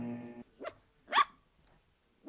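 A dog barks a few times close by, in short, sharp bursts separated by gaps, with a quiet stretch before the final bark.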